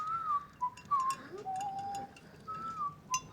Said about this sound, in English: You hear what he's whistling?